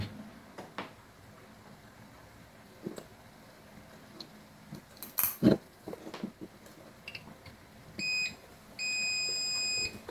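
After several seconds of quiet clicking and handling noises, a backup UPS fitted with a new battery gives a short buzzer beep and then a longer steady beep, still without power.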